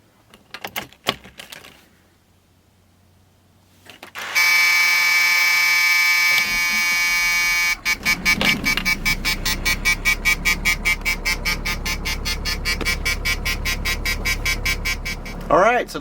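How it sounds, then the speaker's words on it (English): A motorhome starts up and settles into a steady idle while a loud low-air-pressure warning beeps in a rapid, continuous pulse over the engine. Brief clicks and a short pause come first, then a sustained alarm tone shifts into fast repeated beeping. "I have gotten the annoying low air pressure codes, the loud beeping."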